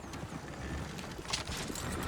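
Several horses gallop through the open world of Red Dead Redemption 2, a steady, busy patter of hoofbeats under a wash of ambient game noise, fairly close and continuous throughout.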